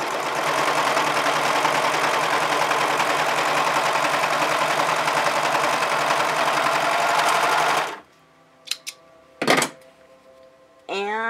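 A Serger 1034D sewing machine runs steadily for about eight seconds while stitching stretch fabric, a loud continuous whir, then stops, followed by a few brief clicks and thunks and a short burst of talking.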